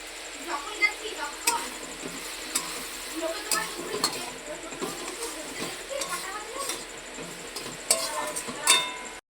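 Egg chicken chow mein is stir-fried in a pan with soy sauce and chopped green chillies, giving a steady close sizzle with scraping spatula strokes and a few sharp metallic clinks.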